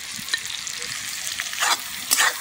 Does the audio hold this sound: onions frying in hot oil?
yes